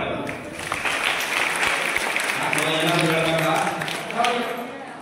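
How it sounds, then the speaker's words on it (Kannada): Crowd breaking into loud applause, a dense sustained roar of clapping at close range, with a voice speaking over it in the second half. "ಒಂದು ಜೋರಾದ ಚಪ್ಪಾಳೆ"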